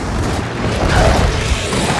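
An explosion in the video game Gears of War 4 makes a loud, dense rumbling blast that stays heavy and continuous for about two seconds, with no clear speech.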